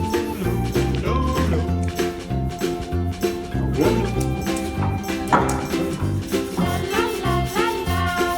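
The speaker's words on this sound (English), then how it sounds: "Puppy." A puppy yips and whimpers in short, high, irregular bursts, close by, amid a busy, cluttered background with faint jingling.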